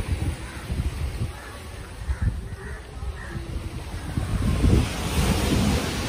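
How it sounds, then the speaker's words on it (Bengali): Ocean waves break and wash up on an Indonesian beach, a continuous hiss of surf that swells louder toward the end, with rough wind buffeting the microphone throughout. "ঢেউগুলো অনেক সুন্দর"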